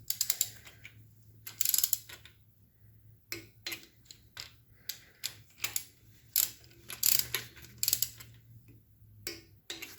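A torque wrench ratchets as head bolts on an XR1200 motorcycle engine are tightened to 180 inch-pounds. Clicking ratchet strokes come in short repeated bursts, close and distinct, with a low steady hum underneath and no talking.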